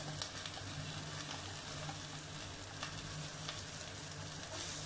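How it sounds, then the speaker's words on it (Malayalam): Chopped raw green mango hits hot oil in a pan for a sardine curry, giving a steady, close, even sizzle and crackle with no talk. "ഈ അരിഞ്ഞു വെച്ചിട്ടുള്ള മാങ്ങ ഇതിൽ ചേർക്കാം."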